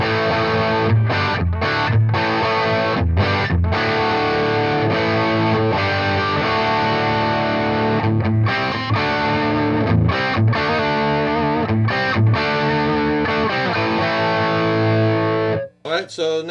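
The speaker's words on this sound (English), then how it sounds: "So on A, I have a heavy distortion about 3/4 of the way up, and on B, I have only about 1/4 up" An electric guitar plays chords and riffs through a Fender Duel Pugilist distortion pedal blending heavy and light distortion, loud and saturated with short breaks between phrases and a sudden cut near the end.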